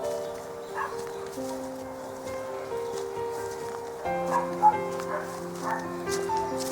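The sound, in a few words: dog barking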